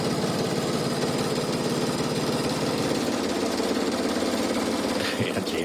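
A sewing machine stitches along the side of a big quilt block for a Special Delivery quilt, a steady, loud, continuous whir with a fast rhythmic chatter that runs unbroken from start to finish with no talking.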